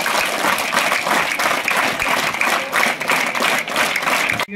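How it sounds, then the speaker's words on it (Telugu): Sustained applause from an audience at a government school event in Malyala village marking a free water plant donation, dense steady clapping throughout that breaks off sharply right at the end. "వారికి గట్టిగా చప్పట్లు కొట్టండి."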